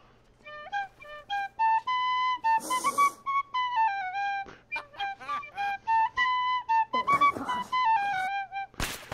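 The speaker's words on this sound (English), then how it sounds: "I had to find my tin whistle." A tin whistle plays a bright, lively melody of many short notes, announcing a British arrival in an online game, with a few brief bursts of noise cutting in between phrases.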